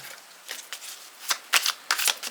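Tarot cards are shuffled and drawn at close range, with a run of crisp, papery riffles and flicks growing busier toward the end, with no voice over them.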